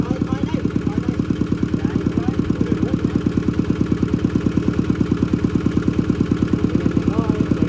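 A tractor engine idles with a fast, steady chugging rhythm, close and continuous, with faint voices in the background.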